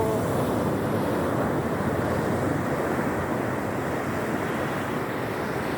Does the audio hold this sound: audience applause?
no